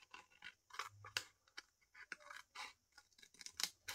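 Scissors snip paper for an accordion pouch, a quick run of close, crisp cuts in an uneven rhythm, faint and without speech.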